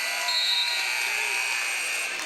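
End-of-period buzzer at a high school boys' basketball game in a gym, a loud sustained harsh electronic drone lasting a couple of seconds, filling the clip with steady even loudness.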